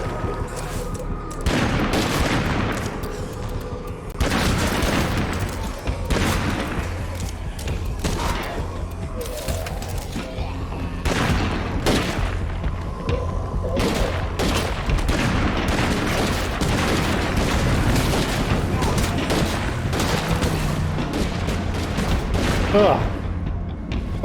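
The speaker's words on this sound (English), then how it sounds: "Stop shooting my vehicle, please." Gunfire hits a Trekker vehicle in a zombie video game, with rapid bursts and volleys of shots recurring throughout and people talking over the shooting.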